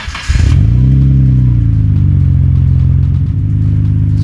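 A Nissan R32 Skyline GT-R cranks briefly and fires up, settling into a loud, deep, steady idle with a slight rise in revs just after startup, heard close by with no talk.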